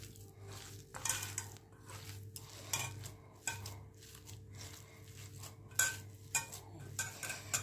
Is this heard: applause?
no